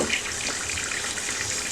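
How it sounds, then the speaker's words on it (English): Tap water runs steadily to rinse bleach solution out of tree-fern panels, a continuous close hiss and splash with no voices. "we're just going to give them, again, a little bit of help to try to rinse this bleach solution out of there"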